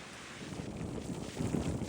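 Steady wind buffets the microphone in a low, rumbling rush beside a railroad, rising slightly toward the end, with no voices.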